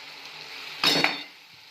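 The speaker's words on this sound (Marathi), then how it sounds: "आपला मसाला चांगला 1-2 मिनिटं परतून झाला आहे। चांगला तेल असं सुटलं।" Spice masala sautéing in oil gives a soft, faint sizzle, with a brief louder hiss and scrape near the middle as the pan is stirred.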